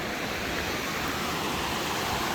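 Water rushes through culverts in Marble Canyon in Kootenay; a loud, steady roar of churning flow stays near and unbroken, with no other sound standing out.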